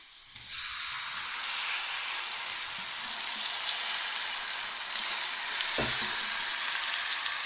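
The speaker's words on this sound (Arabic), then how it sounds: "نبتدي بقى ايه نطش الخل عليها." Vinegar splashed onto hot fatta sets off a loud, steady frying sizzle and hiss that surges in at once and holds, with a brief utensil knock near the end and no voices.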